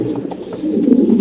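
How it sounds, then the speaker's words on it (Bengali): Domestic pigeons coo at a loft, where a female is in breeding condition; a low, steady rolling coo runs throughout, close and moderately loud, with no talk over it. "কবুতরের ডাক দেখেন ভাই"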